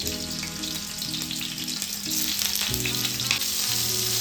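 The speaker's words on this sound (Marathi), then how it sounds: "हे आपल्याला शॅलो फ्राय करायचं आहे." Cubes of paneer shallow fry in hot oil on a medium flame with a steady, close sizzle and crackle. Soft background music with sustained tones plays underneath.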